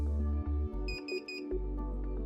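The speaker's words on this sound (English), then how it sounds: "The operator body resistance channel will alarm if resistance measures above 10 megohms." An electronic alarm from a WS Aware workstation monitor's operator body resistance channel, sounding as a steady, loud tonal beep over about two seconds, with a brief change in pattern partway through and no talking.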